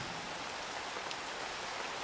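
Heavy rain pours down on Pohnpei island as a dense, steady hiss of falling water, continuous and moderately faint, with no voices.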